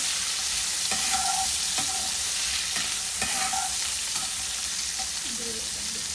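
Ginger is stirred in a pan for shahi cauliflower, a continuous close sizzle broken by repeated spoon scrapes and light taps against the pan.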